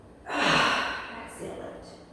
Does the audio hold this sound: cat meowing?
no